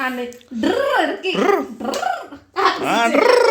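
A dog barks and growls in several loud, drawn-out bursts close by, with short gaps between them.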